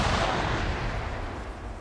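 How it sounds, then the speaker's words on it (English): Dense, continuous booming roar of grenade explosions and gunfire in a short-range firefight in the Arma video game, loud and sustained without a break, no voices. "Grenades going back and forth."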